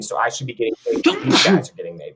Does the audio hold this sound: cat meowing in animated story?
no